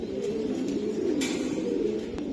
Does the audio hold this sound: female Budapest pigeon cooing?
yes